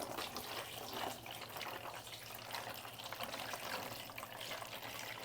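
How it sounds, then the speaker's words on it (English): Graphics card heatsink and fan parts from a dusty EVGA GTX 760 SC with ACX cooler being washed in soapy water, giving a steady, close sloshing and trickling wash with no talk. "We get to wash everything with soapy water."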